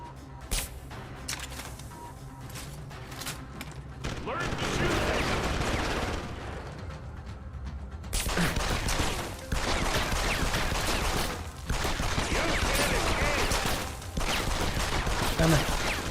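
Sustained, dense gunfire from Deus Ex Human Revolution roars through continuous bursts with a short lull before a louder stretch, heavy and close throughout.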